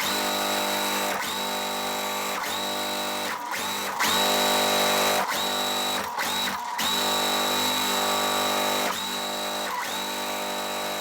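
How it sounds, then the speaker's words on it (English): A sewing machine chain piecing a quilt block, with a loud close mechanical whir that keeps running and breaks off briefly several times as pieces are fed through, with no voices. "All right, so now I'm just going to chain piece this."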